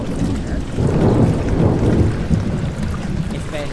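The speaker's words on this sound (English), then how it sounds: "It's been raining for a minute." Rain pours steadily in a video game, with low rumbling thunder swelling through the middle and a continuous dense hiss throughout, no talk over it.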